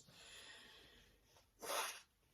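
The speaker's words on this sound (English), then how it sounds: "Sorry, I'm sneezing again." A single sharp sneeze bursts out near the end after a quiet breathy lead-in, close and brief.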